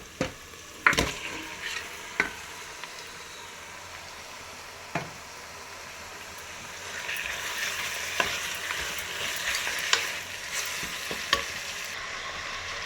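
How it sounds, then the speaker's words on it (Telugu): Mutton stirred and fried with onions in a pan: steady sizzling with sharp scrapes and clatter from a spoon against the pan, getting louder and busier partway through, with no talking. "ఇప్పుడైతే మటన్ అంతా బాగా కలుపుకున్నాను"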